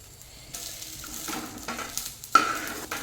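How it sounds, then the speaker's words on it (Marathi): Spice masala dry-roasting in a pan for a drumstick (shevga) vegetable curry, with soft scraping stirs and a faint sizzle repeating every half second or so, plus one sharp clink of a utensil near the end. "मसाला आता आपण भाजून घेऊ."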